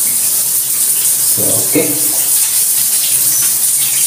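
Strong, steady water rushes from a handheld telephone-style shower head indoors, a continuous loud hiss filling the whole stretch while someone briefly speaks over it.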